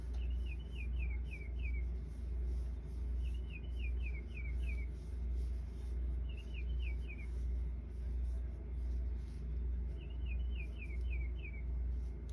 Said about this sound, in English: That is my bird clock.